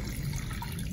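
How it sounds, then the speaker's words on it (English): Water poured over drained brown rice for sprouting, a brief close splashing gush of liquid with no talk. "So I'll just pour water over it."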